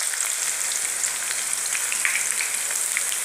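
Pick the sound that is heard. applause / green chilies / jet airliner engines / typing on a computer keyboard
green chilies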